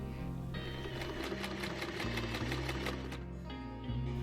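A sewing machine stitches a tulip hat seam in a steady, rapid, close-up hum of needle strokes, alone with no talk.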